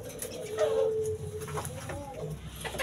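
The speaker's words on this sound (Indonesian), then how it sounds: "ada burung puter Irak atau Tangerine, puter abu lokal biasa" Caged turtle doves, Iraqi and local grey varieties, give soft, low coos in a couple of short phrases, close by over a faint background hum.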